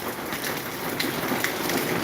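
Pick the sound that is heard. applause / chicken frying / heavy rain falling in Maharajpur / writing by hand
heavy rain falling in Maharajpur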